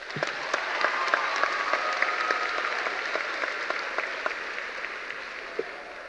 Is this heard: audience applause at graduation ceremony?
yes